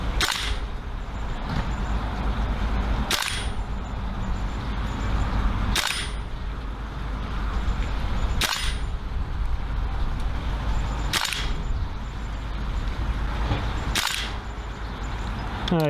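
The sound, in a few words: Marui AKM gas blowback airsoft rifle firing BBs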